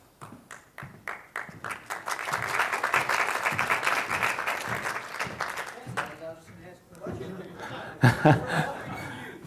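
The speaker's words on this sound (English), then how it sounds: "Yeah, they're clapping for you." An audience at a gaming convention talk breaks into sustained applause mixed with scattered laughter and chuckles, fading out before a few voices and a louder final burst.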